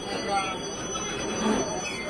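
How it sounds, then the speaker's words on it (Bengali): A freight train rolls past beside a passenger express at Bardhaman station, a continuous rumbling, squealing rail noise with a low murmur of voices around it. "পাশে এরকম মালগাড়ি যাচ্ছে।"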